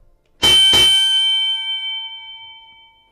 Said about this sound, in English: I'm going to ring the bell one more time.